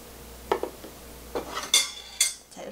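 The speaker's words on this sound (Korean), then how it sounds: "이렇게 해서 저어주고요" A utensil scrapes and clinks against a bowl, stirring starch and glutinous rice flour batter in a few quick strokes, light metallic taps spaced irregularly in a quiet room.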